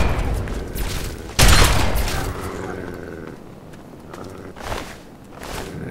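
Grenades explode during a Fallout 3 battle with super mutants: one loud, close blast followed by fainter booms and scattered gunfire amid game noise.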